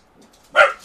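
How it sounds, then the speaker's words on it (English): Dogs in a house give a single sharp bark, loud and close after near silence, with faint noises before it. "my stupid dogs are off on me again, barking at nothing."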